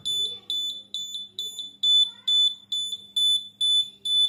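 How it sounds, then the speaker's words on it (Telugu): An electronic smoke detector buzzer, set off by cigarette smoke at a sensor, beeps in a steady repeating pattern of loud, high pulses about twice a second, with a faint low hum underneath. "ఈ విధంగా బజర్ కంటిన్యూస్గా మోగుతూ ఉంటుంది."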